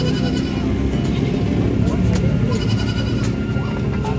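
Several goats bleat repeatedly over a busy, crowded outdoor din at the San Carlos City livestock market, with engines idling and people chattering nearby.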